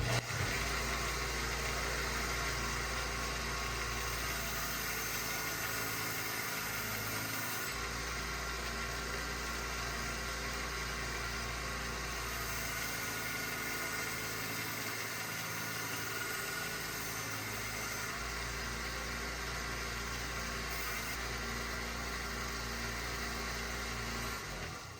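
A worn-out chainsaw engine fitted with a chainsaw knife idles steadily and close by for the whole stretch, with a constant droning hum and a few small shifts in pitch.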